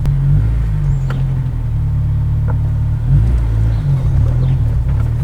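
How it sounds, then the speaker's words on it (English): A lowered Honda S2000 backs slowly out of a driveway, its engine idling close by in a steady low rumble with a slight swell partway through and no talking. "Backing out of the driveway, let's see if we rub."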